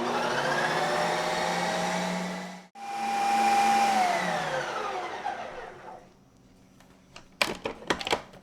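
A Ninja CREAMi ice cream maker respins matcha green tea ice cream, a loud steady motorized whir that pauses briefly, restarts, then winds down into a few sharp clicks and clunks of the machine.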